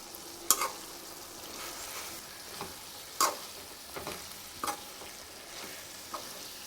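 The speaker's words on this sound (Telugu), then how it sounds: "కొత్తిమీర అయితే వేసుకొని మంచిగానైతే కలుపుకుందాం" Bean and tomato curry with fresh coriander leaves being stirred in a pan, a series of sharp spoon scrapes and clacks spaced every second or so over a quiet low sizzle.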